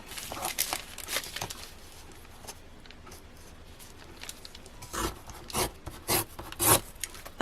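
Paper page torn from a junk journal, a few sharp ripping and rustling bursts, close and fairly quiet, with soft handling rustle between them and no talking.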